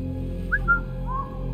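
Character whistling in the video game Assassin's Creed Mirage: a few short, clear rising whistle notes over a steady low in-game ambient hum, fairly close and alone without talk.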